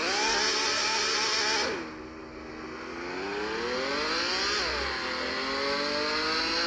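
A Lamborghini engine revs hard as the gas pedal is pressed, a loud continuous roar that dips briefly, then climbs again through rising pitch sweeps, close and without talk.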